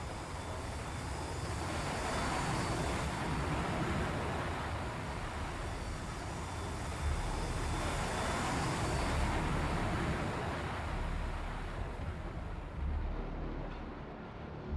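P-3 aircraft taking off in the naval combat game Sea Power, a steady broadband engine roar that holds loud and even throughout, with no voices.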